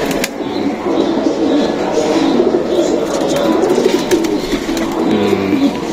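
Madrashi pigeons in a loft coo steadily in low, overlapping rolling calls, close and continuous with several birds at once, while someone talks faintly in the background.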